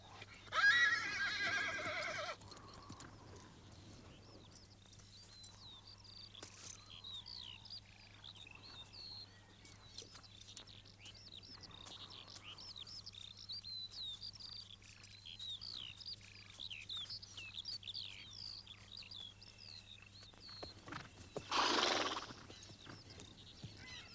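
A horse whinnies loudly near the start and again near the end, with faint birdsong chirping steadily in between over a low hum, and no talking.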